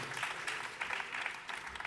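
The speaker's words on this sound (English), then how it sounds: "Let me hear you clap." Audience at a jazz concert clapping in a brief, scattered patter, fairly faint and distant in the room, a few sharper claps standing out over the soft wash of hands.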